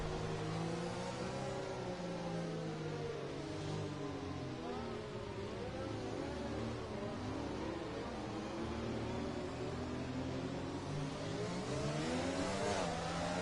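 Formula racing car engines in a racing video game at a race restart, a continuous whining roar with pitch sweeping up and down as several cars accelerate, loud and sustained throughout.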